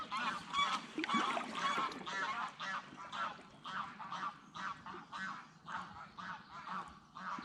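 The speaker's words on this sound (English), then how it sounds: "And a few greylag geese here." Greylag geese on Lake of Menteith give a continuous chorus of overlapping honks and calls, fairly faint and distant across the water, with no voices.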